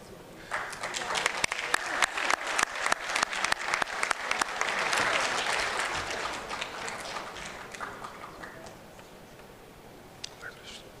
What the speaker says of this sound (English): it's a long walk, but a lot of applause